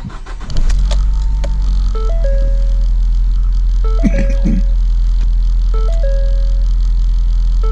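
A Ford Focus engine starts and settles into a steady idle, with a loud, constant low hum and a series of short electronic chime tones sounding in repeated bursts from the dashboard.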